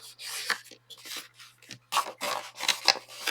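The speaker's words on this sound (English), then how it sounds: "That's why I use the larger scraper tool." A larger scraper tool rubs along paper while making a mini notebook shadow box, a series of short rasping strokes in uneven bursts, close and fairly quiet.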